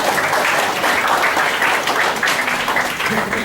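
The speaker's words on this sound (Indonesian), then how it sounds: "boleh tepuk tangannya untuk Ketua Yayasan Falcomtech, Bapak Henry" An audience at an entrepreneurship talk show claps for the foundation chairman, a loud, dense burst of applause sustained throughout.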